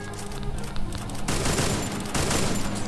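Rapid bursts of Groza assault rifle fire in a mobile shooter game, dense and continuous with a sharp intensification partway through, loud and steady with no talking.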